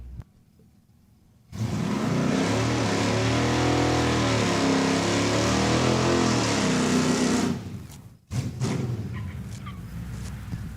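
Drag racing cars launch down the strip at Saskatchewan International Raceway with a long, loud engine roar. After several seconds the noise cuts off abruptly, and a second, fainter engine blast follows.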